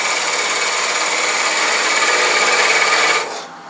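A woodturning parting tool cuts into spinning wood on a lathe, making a continuous bright, hissing scrape. It holds loud and close for about three seconds, then drops off sharply.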